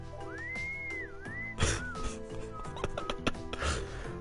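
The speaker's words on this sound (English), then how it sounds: "That instant whistling isn't fooling anyone." A character in the Trails of Cold Steel video game whistles a short, innocent rising-and-falling tune, then a few more brief notes over soft background game music and effects.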